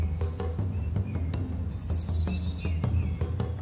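Several birds call in a mangrove forest, with repeated short chirps and a clear descending whistle-like call over a steady low ambient hum, moderately close.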